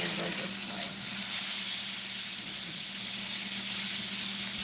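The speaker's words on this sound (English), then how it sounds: "Let us sear that part." A rib roast sears on a hot surface, giving a constant loud sizzling hiss with a faint low hum beneath, steady for several seconds with no talk over it.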